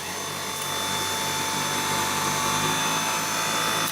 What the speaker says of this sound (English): And now we have the Dyson V8. I'm gonna put it on low and see how that does.